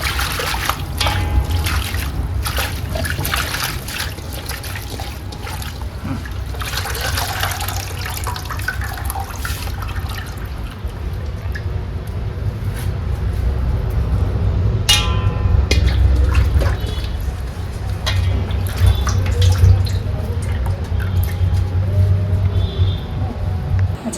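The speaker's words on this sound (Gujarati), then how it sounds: "આપણે પાણીથી સાફ કરી નાખ્યું" Fresh mint leaves rinsed under running water in a home kitchen, a steady close trickle and splash of water that continues for the whole stretch with no talking.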